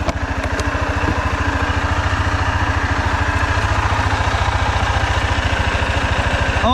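A Yamaha Grizzly ATV engine runs steadily at close range, a loud, even low-pitched throb with a continuous rhythmic chug throughout, no voices over it.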